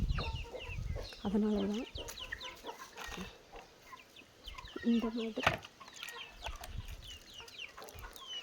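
Free-range native country chickens, one- and two-month-old birds, cluck and call in short bursts close by, with someone talking briefly over them and other birds chirping in the background.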